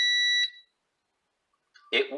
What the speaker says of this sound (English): It'll keep beeping until I hit the start.